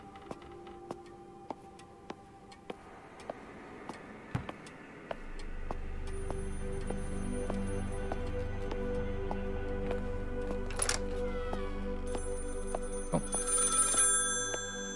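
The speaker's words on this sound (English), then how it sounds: "Objective, answer the phone." A telephone rings in a video game, its repeated bell tones sounding over a ticking background and low ambient hum, with a brief sharp chime burst near the end and no voices.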